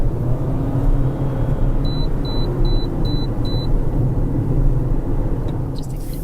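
A 2017 Toyota RAV4 Hybrid in sport mode gives a steady low road and engine rumble throughout, with a quick run of five short electronic beeps near the start.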